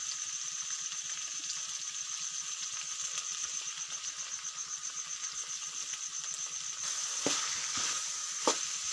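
Okra frying in a pan with salt and turmeric, a steady bright sizzle throughout with soft stirring scrapes and a few sharper clinks near the end, no voices.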